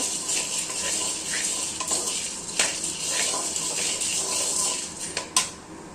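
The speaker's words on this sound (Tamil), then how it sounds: "இப்போ நம்ம பொட்டுக்கடலை வறுத்துக்கலாம் இது கால் கிலோ பொட்டுக்கடலை" A quarter kilo of roasted gram is dry roasted in a pan, the dry pieces rattling and scraping under a stirring spatula in a steady close shuffle, with a couple of sharper metallic knocks near the end.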